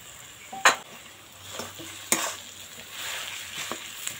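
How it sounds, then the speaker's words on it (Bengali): Mashed boiled potato being stirred into sizzling spices in a pan for aloo patties, a low frying hiss broken by a few sharp spatula knocks and scrapes, close and without voices. "একটু নাড়াচাড়া করে এখন আলু সিদ্ধটা দিয়ে দেব"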